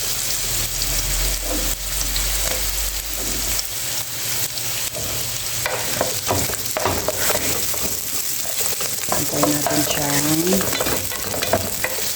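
Garlic sizzles loudly in a hot pan, then onion goes in and stirring takes over, with a spatula scraping and clattering over the continuous frying crackle.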